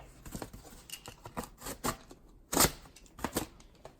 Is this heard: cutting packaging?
yes